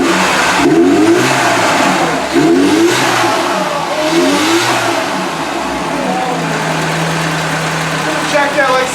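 A Merkur XR4Ti car engine, run without coolant during a project to get it running, revs repeatedly in rising and falling bursts over a rough idle, loud and close, with some background noise throughout.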